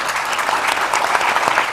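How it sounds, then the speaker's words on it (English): Audience applause for panel respondents at a global forum on childhood pneumonia, a dense, loud burst of clapping from a conference hall crowd, continuous for the whole moment. "A big round of applause for our respondents."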